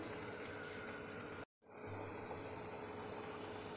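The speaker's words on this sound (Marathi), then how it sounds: "आता त्यात करी बनवण्यासाठी थोडं पाणी घालून घेत आहे." Water goes into a simmering chicken masala curry as a soft, steady rushing pour, briefly cut off by a short silence before the quiet flow and bubbling resume.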